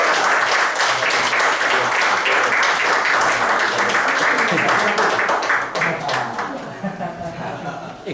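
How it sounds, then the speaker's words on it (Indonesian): An audience at a sales training session claps in a loud, dense burst, with scattered laughter and chatter mixed in, then the clapping thins out and tapers off. "Oke, tepuk tangan dong."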